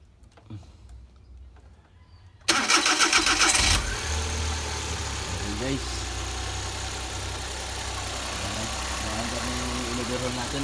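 A rebuilt Suzuki K6A car engine, fitted with a new crankshaft, piston rings and valve seals, cranks briefly and catches, then settles into a steady, loud idle close by.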